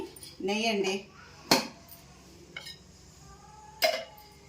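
A metal bowl being picked up and handled in a home kitchen beside a switched-off stove; a few sharp clinks and knocks spaced apart, with a voice speaking briefly at the start.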